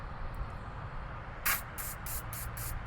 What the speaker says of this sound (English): and spray it up in these connections right here,